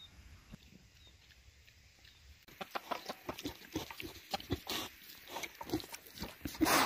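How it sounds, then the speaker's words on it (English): Greedy farm pigs grunt and snuffle in a rapid run of short, close bursts, loud and irregular, after a quieter stretch of faint ambience at the start. "The pigs are essentially greedy as they come."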